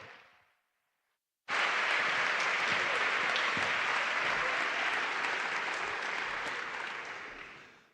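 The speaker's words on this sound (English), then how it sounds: "So please, huge round of applause to welcome Jaume." After a brief lull, a large audience at a Seville Erasmus+ event bursts into loud, dense applause welcoming a speaker, holding strong for several seconds before slowly tapering.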